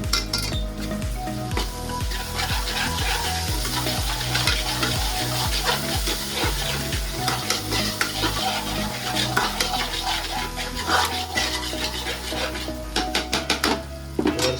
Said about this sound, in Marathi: आला लसणाची पेस्ट मस्तपैकी घाटून घ्यायची